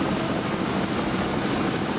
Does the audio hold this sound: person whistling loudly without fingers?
no